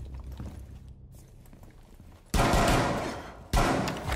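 Gunfire in a multiplayer shooter game, heard as two loud sustained bursts of rapid shots that follow a quieter stretch of background game noise.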